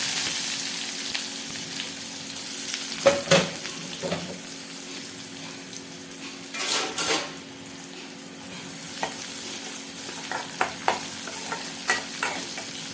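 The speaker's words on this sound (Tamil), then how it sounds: "இப்போ உருளைக்கிழங்க தாளிச்சிக்கலாம்" Diced potatoes fry in hot oil with mustard seeds, cumin, urad dal, onion and curry leaves, giving a steady close sizzle broken by several sharp scraping stirs of a spatula against the pan; no one speaks.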